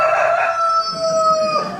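A rooster crows once, a loud, drawn-out cock-a-doodle-doo close by, holding its tone for nearly two seconds.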